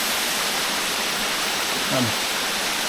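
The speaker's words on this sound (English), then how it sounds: "Beautiful waterfall" Grey Mare's Tail waterfall in Wales, a dense, even rush of falling water heard close and loud throughout, with a short faint call or squeak near the end.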